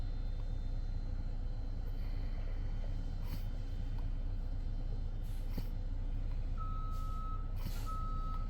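A truck backs up on a railroad crossing, its reversing alarm beeping repeatedly over a loud, steady engine rumble, with brief hissing bursts that may be air brakes.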